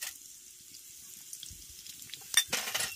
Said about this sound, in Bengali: তেলটা গরম হয়ে গেছে। এবারে লঙ্কা আর জিরে আমি দিয়ে দিচ্ছি